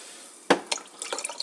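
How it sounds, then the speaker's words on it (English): Hot coffee poured into a cup holding blackberry sparkling water, heard as a sudden close splash followed by a run of light dripping, trickling liquid sounds. "pour in the hot coffee for this cup."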